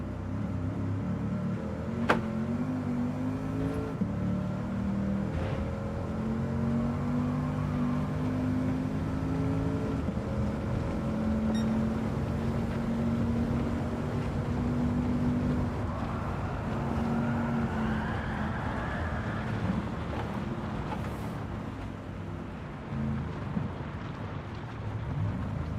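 A racing car's engine in Gran Turismo 7 during a European Championship race, a steady loud droning roar with harmonic tones that climb as it accelerates, continuous throughout with no talk.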